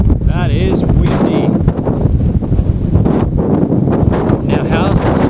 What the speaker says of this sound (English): That is windy.